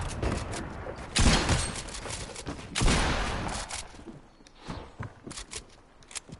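Two sharp, heavy sniper rifle shots crack out in a squad-based shooter video game, loud and separated by about a second and a half, with scattered quieter clicks and thuds afterward.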